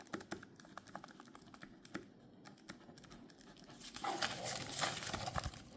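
A pen tip scratching across paper with a Victorinox Swiss Army Knife pen, short rapid strokes close by at a steady pace, growing louder and denser toward the end.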